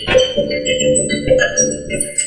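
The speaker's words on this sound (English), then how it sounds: "So in this case, the instrument is called mouth bowl." A mouth bow, a musical bow that uses the player's mouth as its resonance chamber, gives a steady twangy drone with shifting overtones that sing above it. It plays alone and up close.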